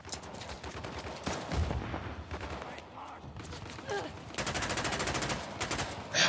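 Rapid automatic gunfire in the video game Uncharted: The Lost Legacy, with loud sustained bursts and a short lull, the firing continuing steadily from near up.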